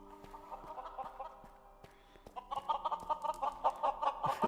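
Minecraft chickens cluck in rapid, overlapping bursts, a busy flock that starts moderately loud, briefly thins, then swells louder and denser toward the end.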